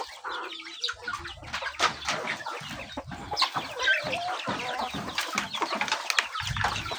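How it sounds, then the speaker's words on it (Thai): Chickens cluck repeatedly in a rural yard, close and fairly loud, with overlapping calls, scattered squawks and a brief flutter of wings. "ไก่"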